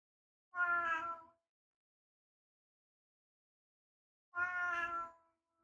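A house cat gives two separate meows close to the listener, each under a second long, with several seconds of silence between them.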